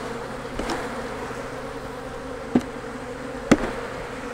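A dense swarm of honeybees drones steadily as a hive frame is given a gentle shake, with two sharp knocks of wood cutting through the constant buzzing.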